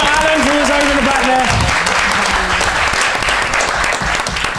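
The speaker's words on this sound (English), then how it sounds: "Another round of applause for Charlie" An audience at a student union question time session applauds, sustained clapping from a crowd that runs the full length without a break, loud and close, with a voice briefly speaking over the start.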